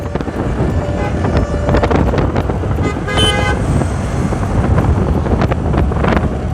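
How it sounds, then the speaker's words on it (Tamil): A bus passes on a road while a motorbike rides toward a dam, heard through loud steady wind rush and engine drone, with a brief horn toot in the middle. "ஒரு பஸ் வருது."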